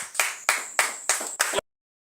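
Congregation applauding the Lord at a prophetic prayer gathering, five quick bursts of clapping in a steady rhythm, loud and close, stopping abruptly.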